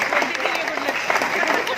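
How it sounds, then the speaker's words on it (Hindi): Audience applause for a guest at a business executive's seminar, a steady dense clapping wash running through the whole moment with a voice talking over it. "तालियां कम बजाई ब्रह्म प्रकाश जी के लिए"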